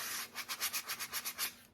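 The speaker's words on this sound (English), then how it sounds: "This one needs a serious sanding." Brisk back-and-forth sanding strokes on a painted, sculpted acrylic panel scrape in a quick, even rhythm, about ten passes, close and moderately loud.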